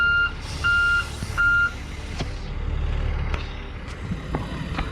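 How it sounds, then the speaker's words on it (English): A large MTVR military truck pulls in at a swampy Louisiana construction site, its reversing alarm giving three loud, evenly spaced beeps before the heavy engine rumbles on as it approaches. "Here's the MTVR coming in for the rescue."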